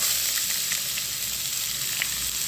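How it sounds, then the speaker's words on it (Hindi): Two large finely chopped onions sizzle in hot ghee in a pan, a steady, loud frying hiss running unbroken throughout. "अब हम इसमें डाल देंगे 2 बड़े साइज के प्याज बारीक चॉप करके।"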